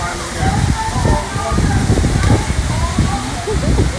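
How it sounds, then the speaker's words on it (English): A waterfall in Massacre Canyon pours and splashes steadily nearby, a loud continuous rushing wash of water with sloshing surges throughout. "Genuine waterfall this time."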